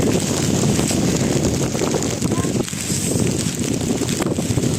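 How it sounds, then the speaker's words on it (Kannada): Strong wind gusts on a rainy hilltop near Chikmagalur, producing a loud, buffeting low rumble across the microphone that continues throughout, with people talking under it. "ಸಿಕ್ಕಾಪಟ್ಟೆ ಗಾಳಿ ಬರ್ತಾ ಇದೆ ಮಳೆಯನ್ನಕ್ಕಿಂತ ಹೆಚ್ಚಾಗಿ ಗಾಳಿ ಬರ್ತಾ ಇದೆ"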